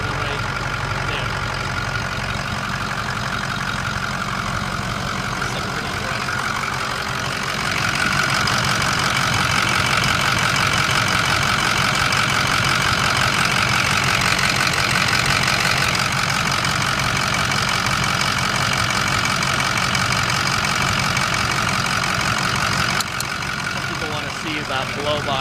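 2006 Ford F350 King Ranch diesel idling, a steady loud clattering rumble with a constant knocking texture that grows slightly louder partway through and stays even to the end.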